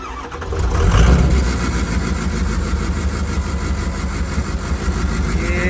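A 6.0 Powerstroke diesel engine idles loudly with an uneven, stumbling misfire, a steady close rumble with a slight surge near the start and no talking.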